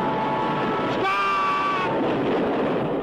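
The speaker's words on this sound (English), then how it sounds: "I'd even stop a speeding locomotive with my bare hands." A speeding locomotive rushes past with a continuous loud roar of wheels on rails, and a horn blast sounds in the middle of it.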